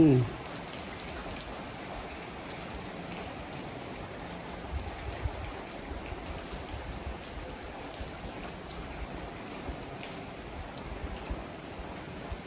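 Steady rain falls on the ground outdoors, a soft continuous hiss with scattered small drop taps and a brief louder sound at the very start.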